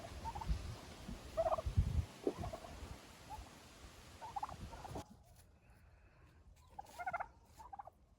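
Turkeys gobble in short bursts scattered through the clip, fairly faint and at a distance, over low rumbling background noise.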